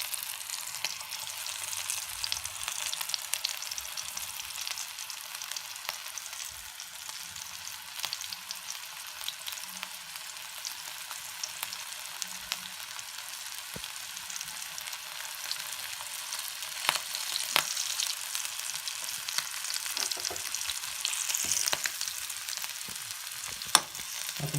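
Vanjaram fish pieces coated in masala and breadcrumbs, fried hotel style, sizzle steadily in hot oil, a dense continuous crackle with occasional louder pops, close and alone without talk.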